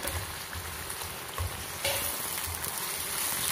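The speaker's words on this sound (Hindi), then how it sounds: "प्याज जो है वो हम कर रहे हैं सौते" Onions sautéing in a pan for a restaurant-style chicken handi, a steady soft sizzle and crackle with occasional stirring scrapes, close and continuous, no talking.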